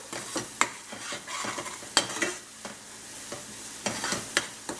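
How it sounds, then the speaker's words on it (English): Mushrooms sautéing in a pan on low heat, a quiet bed of sizzling broken by sharp periodic clinks and scrapes of a utensil against the pan at irregular intervals, no voices. "So I'm going to saute it for about 3-4 minutes, okay? Until it becomes brown."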